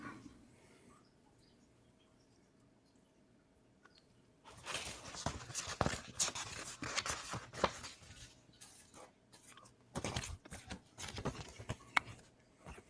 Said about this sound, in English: Who's shuffling papers?